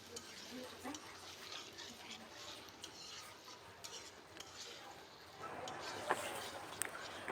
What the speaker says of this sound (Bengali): বাটা মশলাটাকে কিছুক্ষণ নেড়ে চেড়ে আলুর সঙ্গে মিশিয়ে নিব